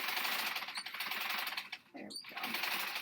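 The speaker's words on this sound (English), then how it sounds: "I'm just going to do a quick stitch around" A sewing machine stitches around the curved edge of a t-shirt mask, a steady fast mechanical whir close by, briefly pausing midway before resuming.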